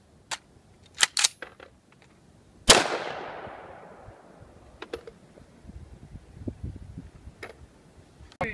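An LWRC M6A2 rifle with a gas issue fires a single sharp, loud report that rings out and decays, surrounded by faint clicks and handling noises.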